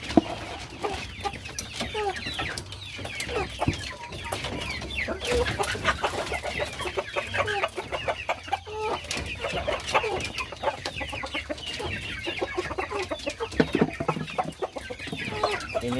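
Arab laying hens cluck continuously in a backyard coop, many overlapping calls near and far with busy scratching and flock noise, an occasional louder squawk.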